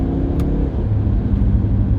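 A tuned Mini Cooper S with a Burger Tuning JB+ piggyback tune pulls hard under acceleration, a steady close engine drone and road rumble with no voices.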